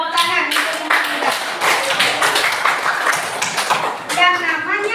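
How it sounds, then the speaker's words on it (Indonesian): Children in a primary classroom clap together for a classmate, a steady run of claps in the middle with young voices chattering before and after. "tepuk tangan untuk yang muda"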